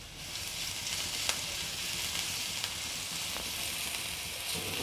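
Crushed green chili paste sizzling in hot oil in a pan, a soft, even crackle that continues steadily with a few faint ticks and no voices.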